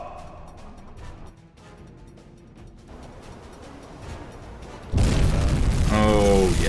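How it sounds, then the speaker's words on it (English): Torpedoes strike a Dale class ship in the submarine game UBOAT, setting off a sudden loud, rumbling explosion that follows a quiet stretch and holds on heavily, with a voice briefly heard over the blast. "Double strike with torpedoes on this Dale class."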